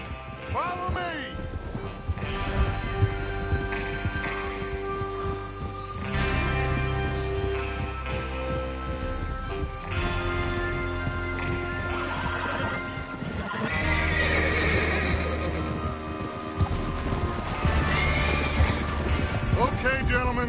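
Horses in Red Dead Redemption 2 neigh and whinny while hooves clip-clop steadily beneath a continuous game soundtrack, with voices present in the mix.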